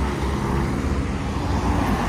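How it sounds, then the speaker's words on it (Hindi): Cars race past on a road in Kazakhstan, a steady, fairly loud roar of passing traffic and engine noise that continues without a break, with no voices. "वो रेसिंग चल रही है भाई"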